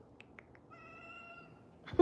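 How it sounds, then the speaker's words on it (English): Indoor cats give a few short chirps, then one drawn-out meow, close and clear in a quiet room, with a sudden bump at the end. "The cats are such vocal cats."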